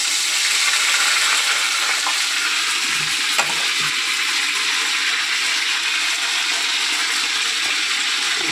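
Ground spice paste hisses and sizzles in a pan of oil already tempered with cumin seeds, a loud continuous fry with an occasional stirring clink.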